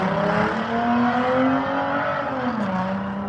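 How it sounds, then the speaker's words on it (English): A muscle car engine revs steadily, its pitch climbing and falling in smooth sweeps, loud and close with no talk over it. "There's a lot of muscle cars around here."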